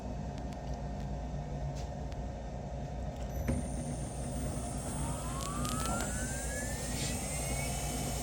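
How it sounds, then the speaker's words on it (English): A Mogul CNC router runs an air cut one inch above the board: a steady, loud motor roar, with a whining tone that rises and sweeps upward in the second half. "We're going to do an air cut to make sure there aren't any problems."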